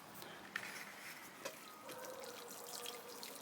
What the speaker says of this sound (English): So I'm going to water it in really good now